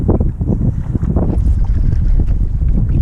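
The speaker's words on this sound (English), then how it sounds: "This wind's blowing me like crazy." Strong gusting wind on a lake around a Hobie Outback fishing kayak, a heavy low rumbling roar buffeting the microphone continuously and loudly, with no voices.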